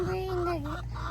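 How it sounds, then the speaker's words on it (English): A single farmyard chicken gives one short, nasal, honking call lasting about a second, close and fairly loud against a low background hum on a small home farm. "It's just a chicken."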